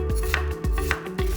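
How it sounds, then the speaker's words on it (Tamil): A knife chops through a medium-sized onion on a cutting board, about three firm, evenly spaced chops with no voices. "ஃபஸ்ட்டு ஒரு மீடியம் சைஸ் வெங்காயம் நல்லா பொடியாக நறுக்கிக்கலாம்"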